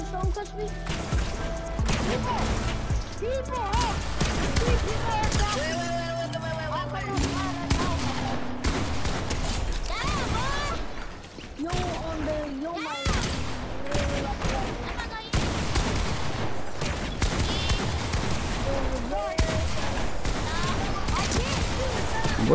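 Rapid pistol and rifle gunfire from a Fortnite match rattles almost nonstop, with shots, impacts and game effects layered over voices talking throughout.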